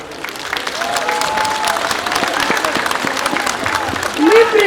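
An audience claps after a Christmas nativity play, with applause building under faint voices and a whistle-like tone near the end.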